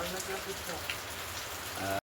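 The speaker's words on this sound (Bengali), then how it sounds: "দেখো বৃষ্টি হচ্ছে এখন" Steady rain patters on a surface, with faint voices murmuring in the background.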